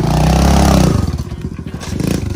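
A mini motorcycle jumps: its small engine revs loudly and close up, then cuts to a rattling, bumpy clatter as the bike lands and rolls on.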